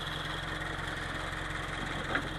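A Subaru-built FRS boxer engine warming up at idle, a steady low rumble with a pulsing, throbbing character, close and even, with no talking.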